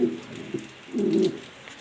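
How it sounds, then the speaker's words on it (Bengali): A black exhibition pigeon gives low cooing calls in a loft, close and fairly loud, a short coo followed by a longer rolling one. "নর কবুতরটা উত্তেজিত অনেক বেশি"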